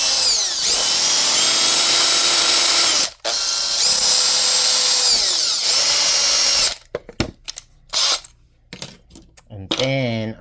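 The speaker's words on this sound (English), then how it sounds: "Just with my drill." A power drill shaping wood for a miniature fairy door whines loudly in long sustained bursts with a brief pause, then stops into short, choppy spurts of grinding and whirring.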